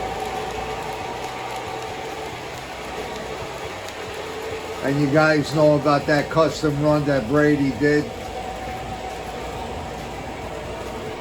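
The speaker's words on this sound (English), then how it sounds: "Tonight we're running a special Blue Comet. We have the Lionel Camelback Blue Comet with the Brady's Trains passenger cars." A Lionel Camelback Blue Comet model locomotive pulling Brady's Trains passenger cars runs with a steady rail hum, while someone talks over it and a burst of rhythmic whistle-like tones sounds in the middle.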